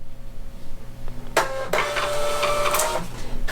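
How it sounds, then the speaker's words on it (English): A thermal label printer feeds and prints a label with a fast, loud mechanical whir lasting about two seconds, close up over a faint background hum. "Let's go ahead and print out one of these labels and just see what it looks like."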